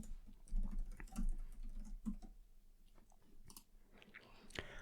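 An administrator password is typed on a computer keyboard while a server's local admin account is set up for an Azure virtual machine. Faint, scattered key clicks come in small bursts against a quiet room.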